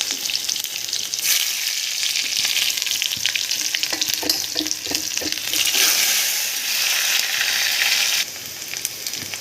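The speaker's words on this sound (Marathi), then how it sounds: "आता आपण याला फोडणी देऊया तेल तापलेलं आहे मोहरी थोडंसं जिरं कांदा थोडासाच टाकायचा" Mustard seeds, cumin and onion dropped into hot oil as a tempering for dal with spinach, giving a loud, continuous close sizzle with crackles and a few stirring knocks, easing slightly near the end.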